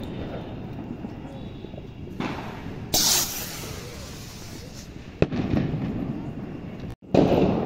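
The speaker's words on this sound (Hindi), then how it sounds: "जुमान जी वाले रॉकेट को जला के देखते हैं" A Jumanji rocket firework lit during Diwali cracker testing: a steady fizzing hiss runs throughout, broken by a sharp burst near three seconds, another crack past five seconds and a final loud pop at the end, heard outdoors at close range.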